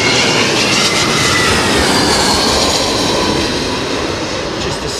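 An airliner touching down on a runway at London Heathrow Airport during crosswind landings, a loud, close, continuous roar of engines and rushing air that holds steady and eases slightly toward the end.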